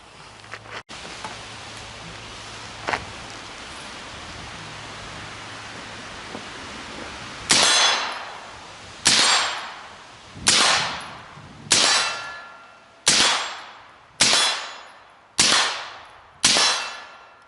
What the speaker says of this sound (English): Let's put a few rounds into the steel with this rifle and see the difference.